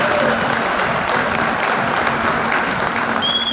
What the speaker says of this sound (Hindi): Can we have a huge round of applause for our speaker master Prathamesh Sinha.